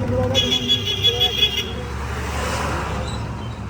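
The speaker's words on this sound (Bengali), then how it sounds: "আমাদের বগুড়ার বাস স্ট্যান্ড।" Traffic at the Bogura bus stand: a car horn toots in a rapid series of short blasts over a steady roar of passing vehicles, with voices mixed into the busy street noise.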